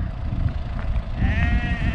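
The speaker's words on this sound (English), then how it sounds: "Look at how suicide sheep jumping on in that truck." A sheep bleats near a truck, a wavering nasal cry rising clearly toward the end over low rumbling outdoor noise.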